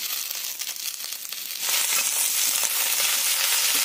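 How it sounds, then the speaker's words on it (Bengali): Eggplant tossed into lightly fried onions in a hot pan, a loud close sizzle that swells sharply as the pieces go in and then holds as a steady dense crackle. "পেঁয়াজগুলো হালকা ভাজা ভাজা হলে এতে দিয়ে দিতে হবে বেগুনগুলো"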